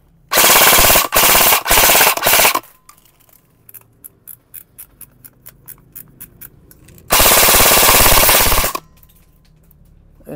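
A Lancer Tactical G2 airsoft rifle fires on full auto in loud, close bursts of rapid mechanical cracking, broken by a softer string of single clicks between the two main bursts.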